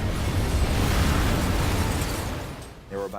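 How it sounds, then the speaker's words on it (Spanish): A deep, rumbling explosion of a destroyer in World War II roars and slowly fades out, followed by a brief voice at the very end. "Toda la ciudad se ve sacudida por la explosión."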